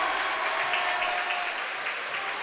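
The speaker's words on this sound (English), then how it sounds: "the crowd is charged up right now" Basketball crowd at a South Medford at Grants Pass game, steady loud cheering and applause filling the gym throughout, dense and sustained with no pauses.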